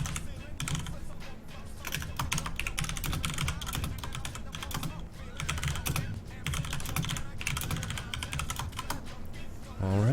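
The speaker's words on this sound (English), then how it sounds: "Sorry about the loud keyboard." Loud computer keyboard typing, fast and continuous clacking close to the listener, with only brief gaps between runs of keystrokes.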